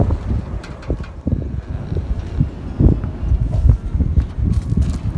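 Strong wind outdoors before a llama trek, gusts buffeting the microphone with low, uneven rumbling bursts and faint rustling, close and loud.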